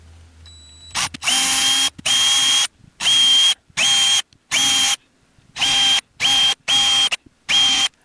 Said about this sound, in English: I will drill the holes carefully.